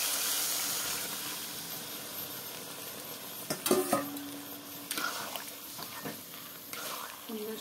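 Gravy poured into a curry of suabin cooking in a pan, giving a steady sizzle and hiss with stirring scrapes and a few clinks of utensil on pot.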